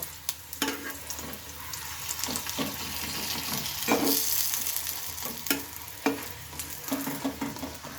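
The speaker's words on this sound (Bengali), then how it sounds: "এবার অপর সাইডটা ঠিক একইভাবে ভেজে নেব" Flour-battered cauliflower pieces fry in oil, a bubbling sizzle broken by soft pops and scraping turns, heard close and without speech.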